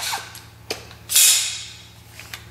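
The bolt of a Stern Defense AD9 shotgun is worked by hand: a few light metallic clicks, then a loud scraping slide as it is drawn back and catches, followed by softer ticks, close and without talk.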